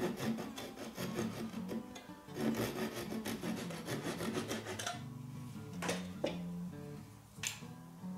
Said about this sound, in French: on va pouvoir déjà mettre un coup de scie pour raccourcir ces trucs-là